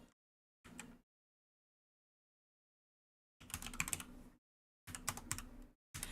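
Short bursts of computer keyboard typing while entering a password, clustered clicks separated by long silent gaps, close and fairly quiet with no talking.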